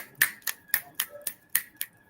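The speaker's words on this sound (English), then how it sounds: "Like snaps and claps" Eight crisp finger snaps ring out at a roughly even pace from an audience at a documentary premiere. They are close and sharp against a quiet background, with no talking.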